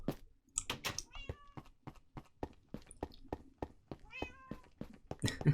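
A cat in the Minecraft video game meows repeatedly in short, fairly close calls, interspersed with light game footstep-like clicks and occasional soft voice sounds.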